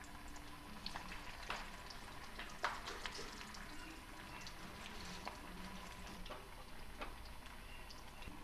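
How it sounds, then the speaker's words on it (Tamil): Corn vada patties frying in hot oil, giving a continuous soft sizzle and bubbling with occasional sharper pops and crackles, close by and low in level. "இது மாதிரி தட்டி எண்ணெயில் போட்டுருங்க."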